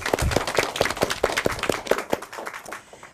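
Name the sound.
round of applause from students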